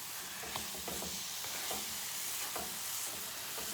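Challah French toast sizzles steadily in a frying pan, a continuous close crackle with occasional soft scrapes and taps as the slices are turned.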